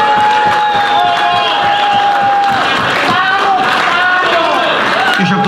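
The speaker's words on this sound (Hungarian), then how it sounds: "Rácz Turkevei Lajos nagy tapsot kérek neki" A crowd at an international pig-slaughtering festival in Túrkeve applauds and cheers for a guest, with dense continuous clapping and whoops mixed with voices for several seconds.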